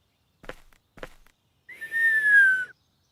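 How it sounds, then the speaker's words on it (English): A character in the adventure game Edna & Harvey: Harvey's New Eyes whistles a single clear, rising-then-gliding tone lasting about a second, preceded by two soft footstep-like taps, with no talk over it. "there, she actually finally whistled"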